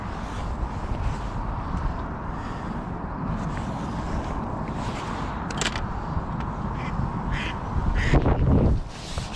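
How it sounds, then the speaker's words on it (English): Ducks quack on the bank of a fishing lake during a live fishing match, a few scattered calls over steady outdoor ambience, with a brief louder rustle near the end. "Oh, go away ducks."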